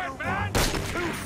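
Gunfire in Assassin's Creed Unity, a single loud blast cutting in over a tense voice, close and sharp with a short decaying tail.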